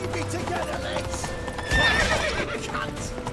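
Horse hooves clip-clop at a gallop and a horse neighs in The Witcher 3, loud and close over game music and shouted voices.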